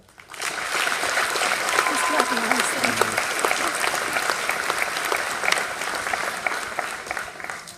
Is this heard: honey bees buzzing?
no